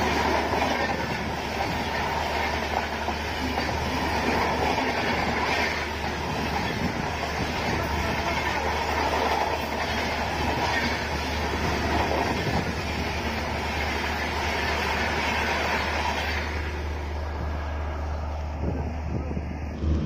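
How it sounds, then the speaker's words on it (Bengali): A moving train at Anand Vihar station in Delhi rumbles steadily for about twenty seconds, a continuous loud, broadband wash of rail noise with faint clatter, easing slightly near the end. "আর এই ট্রেনটি যেদিকে যাচ্ছে এখান থেকে আর 11 কিলোমিটার নিউ দিল্লি স্টেশন।"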